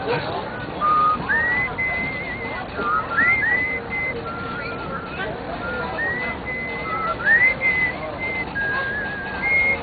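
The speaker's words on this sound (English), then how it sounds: "this is my Snow White whistle" A person whistles a lilting tune with rising swoops and sustained notes, close by, over a steady rustling background.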